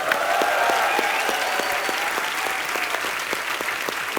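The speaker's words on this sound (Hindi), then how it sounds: "इनके लिए जोरदार तालियां हो जाए।" Studio audience applause on the set of a Hindi comedy talk show, a steady dense wash of clapping with a few sharper claps standing out, sustained and loud throughout with no talk over it.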